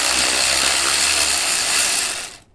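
Rapid ratchet clicking as a 13 mm nut is backed off on a 2014 Volkswagen Jetta 2.0 during stator replacement, a dense steady whir of clicks close up for about two seconds before stopping.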